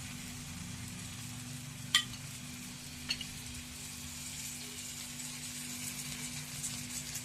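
Uttapam batter fries in oil on a griddle with a soft, steady sizzle and a low hum underneath. Two light utensil taps sound partway through.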